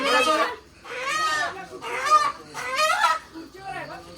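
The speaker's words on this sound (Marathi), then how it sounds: "कोंबडे." Roosters and hens at a Konkan home cluck and call in several loud, close bursts, one after another, with no talk between them.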